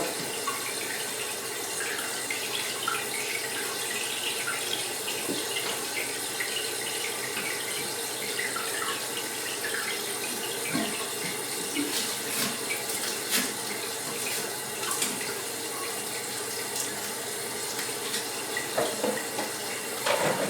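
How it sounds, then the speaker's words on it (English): Water rushes steadily into a tank for about twenty seconds, a continuous hissing, splashing flow heard close up with no talking. "make sure it fills back up properly and the water line goes up"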